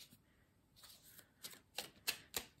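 Small coaching cards being shuffled and drawn from a deck, a run of crisp riffling flicks that grow sharper and louder toward the end, close and quiet with no talk.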